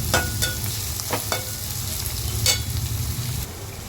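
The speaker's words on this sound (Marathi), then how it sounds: "तोपर्यंत कांदा आपला भाजतोय मस्तपैकी एकदम" Onion fries in a pan with a constant close hiss of sizzling, broken by several light scraping stirs and taps, and no voices.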